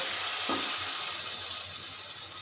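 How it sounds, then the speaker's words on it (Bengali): An egg dipped in batter fries in hot oil, giving a steady, fairly loud hiss with a soft splash near the start. "এইভাবে আমি ডিমটাকে ব্যাটারের মধ্যে চোবাবো, দিয়ে এরকম করে ভাজবো"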